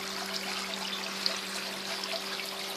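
Water trickles steadily from a siphon draining an aquaponics grow bed in an Abu Dhabi installation, a faint continuous dribble with a low steady hum underneath and no talking.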